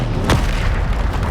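A single sharp blast from the Bombarda spell in Hogwarts Legacy, a sudden booming explosion with a quick fading rumble over a constant background bed, no speech.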